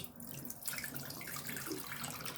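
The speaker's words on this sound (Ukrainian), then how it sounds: "Отак прикриваю кришечкою і виливаю." Water pours out of a lidded jar in a steady splashing stream, close and continuous, running into a sink or container.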